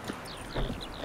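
Horse hooves clip-clopping in the video game The Witcher 3, in a quick, steady rhythm, close and moderately loud, with bright chirping tones layered over them.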